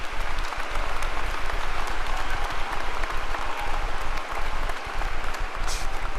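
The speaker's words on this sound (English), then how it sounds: "Would you please join me in a round of applause for all of those individuals?" A large audience at a university graduation ceremony in Nebraska applauds, a dense, steady clapping that fills the hall and holds at an even level throughout, with no talk over it.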